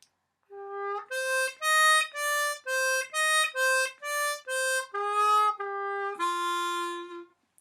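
A harmonica plays a melodic line as a slow string of sustained, clear reedy notes that bend between pitches. It plays alone, with no talking.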